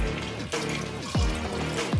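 Water is poured into a pressure cooker of vegetables, splashing and gurgling steadily with a few falling glugs, close and fairly loud.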